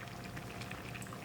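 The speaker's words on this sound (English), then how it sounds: "So you'll see that our dish is at a boiling point again" Paella bubbling steadily at a boil in a pan, a dense, even crackle and fizz of simmering liquid with no talking.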